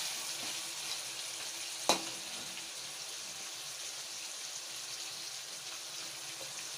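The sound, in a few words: meat frying in a pan for chicken korma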